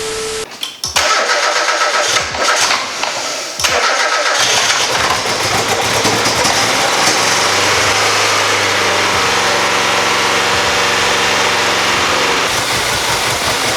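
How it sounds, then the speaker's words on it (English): Totaled NA Miata engine being restored, cranking over in several short bursts before catching, then revving up and easing down into a steady, loud idle close by. "All right, let's try to get this car idling."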